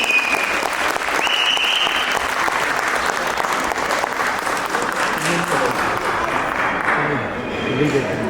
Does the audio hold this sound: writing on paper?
no